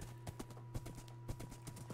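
Horse hooves clip-clop in Minecraft with steady, evenly spaced soft thuds over a low constant game hum, ending in a brighter click.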